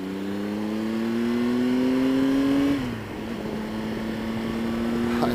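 A 2014 Triumph Tiger Explorer motorcycle on the move, its engine note climbing steadily, dropping sharply with a gear change, then holding a smooth even drone up close.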